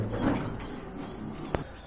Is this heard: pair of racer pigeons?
yes